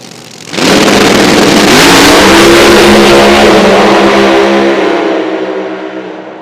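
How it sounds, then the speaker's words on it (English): Drag racing cars launch and roar down the strip at a motorsports park, a very loud, sudden engine blast that holds strong for several seconds and then fades as the cars pull away. "that was a great drag race"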